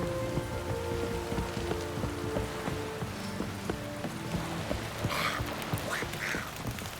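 Heavy rain falls steadily in The Witcher 3 on the Pali Gap coast, a dense, continuous hiss of drops on surfaces with no talk over it and a brighter burst of splashing near the end.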